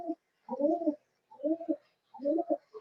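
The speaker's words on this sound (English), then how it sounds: "Now pigeons are making sound." Pigeons coo nearby in three rhythmic phrases of soft, throaty, repeated notes, clear and fairly loud against a quiet background.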